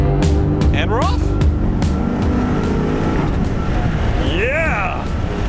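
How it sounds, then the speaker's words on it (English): A cheap used supercar's engine roars loudly while driving off, a strong steady drone with rising revs and a brief whoop-like swell near the end, as an excited voice shouts over it. "This is definitely the best sounding car of the bunch."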